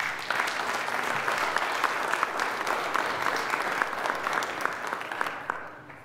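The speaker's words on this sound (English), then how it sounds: "So we can give them a round of applause." Congregation applauding during a church service, steady dense clapping from many hands filling the whole stretch, fairly loud and even, with no speech over it.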